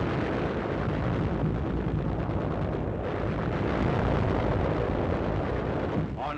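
Artillery shelling of Zebra Hill in 1945, a continuous dense roar of blasts and rumbling fire that stays loud and steady for the whole stretch, with no clearly separated single shots.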